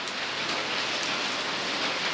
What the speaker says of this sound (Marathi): पाऊस तर सकाळपासून कंटिन्यू चालू आहे बघा, कंटिन्यू